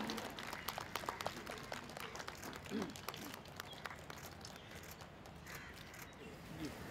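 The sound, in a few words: audience applause welcoming the minister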